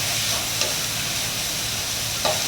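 Instant noodles tossed with their seasoning packet, sauce and sugar sizzle steadily in a pan, with a near, continuous frying hiss and two brief scraping clacks of stirring, no voices present.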